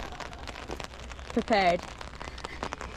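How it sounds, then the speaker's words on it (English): Rain pattering on an umbrella on a steep downhill mountain-bike track, a light crackling patter of drops running under a brief spoken remark. "Raining."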